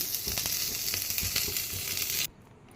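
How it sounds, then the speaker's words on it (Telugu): Curry leaves and ivy gourd chutney hitting a hot tempering for roti pachadi give a loud, dense hiss with faint clicks, which cuts off abruptly just before the end. "ఇప్పుడు కరివేపాకు, చట్నీ వేసుకుందాం."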